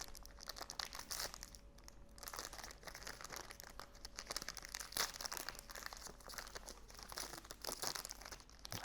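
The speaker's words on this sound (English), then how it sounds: "So yes, in its protective little silver foil." Silver foil wrapping on a Polaroid film pack crinkles steadily and close up, a continuous bright rustle that goes on without pause and with no talk over it.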